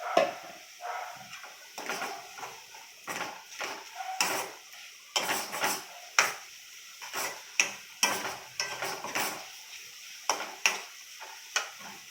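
Onion and tomato puree frying in oil for paneer masala, a soft steady sizzle under repeated scraping strokes of a spoon against the pan, close and fairly quiet.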